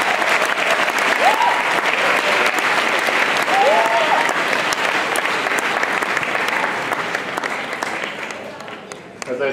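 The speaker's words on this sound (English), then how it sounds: "Please, a warm round of applause." A senior banquet audience in a school gymnasium breaks into warm, dense applause, a full wash of clapping that holds steady for several seconds before thinning and fading near the end, with a brief cheer heard early.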